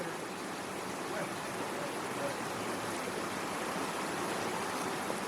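A high-elevation mountain creek holding native brook trout flows in a steady, dense rush of water, continuous and fairly close, with no voices over it.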